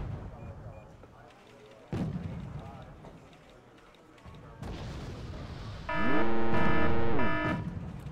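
Wargame: Red Dragon battle with gunfire and artillery on a large front where a BMP-T push is underway, sharp impacts and rumbling fire recurring over several seconds, a harmonic droning burst near the end, with a voice speaking at times.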